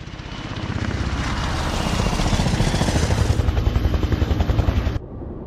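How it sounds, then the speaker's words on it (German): A private helicopter in the video game Beyond: Two Souls thunders close by with a dense, rapid rotor chop over a steady engine roar, growing slightly louder before cutting off abruptly. "Der Boss schickt seinen privaten Helikopter, um einen Agenten abzuholen."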